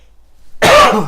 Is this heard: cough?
yes